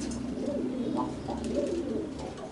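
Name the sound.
Nash pigeon cooing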